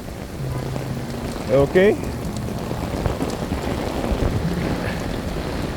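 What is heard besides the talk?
strong wind and rain during a storm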